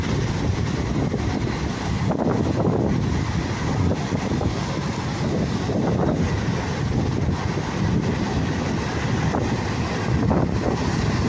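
Big sea waves slosh and surge around a small fishing boat while wind buffets the microphone, a continuous loud roar with periodic swells of water and no talking.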